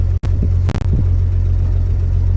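A 1950 farm truck rat rod creeps along slowly in granny gear, a steady low engine rumble heard up close with a few brief knocks and clunks over it.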